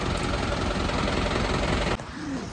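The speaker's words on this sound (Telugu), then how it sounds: "ఇంజన్ పాడైన ఇంజను" A ten-year-old truck's faulty diesel engine idles with a steady, rough knocking rumble at a petrol station, then suddenly drops in level near the end as the sound partly cuts away.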